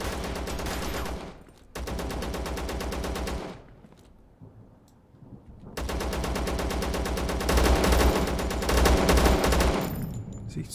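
Sustained automatic gunfire in the video game Zero Sievert, loud continuous bursts that stop briefly, give way to a quiet gap, then resume in long, dense volleys.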